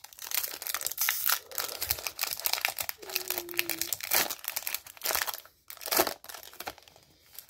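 Crinkling and tearing of a Pokémon Fusion Strike card pack's foil wrapper come in close, irregular bursts of rustling and crumpling, with a brief pause partway through.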